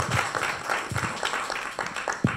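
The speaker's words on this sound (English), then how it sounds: "Can we give them a round of applause for having us here today?" A small audience gives a round of applause for partners at a public talk, close uneven clapping with distinct hand strikes, ending in a sharp final clap.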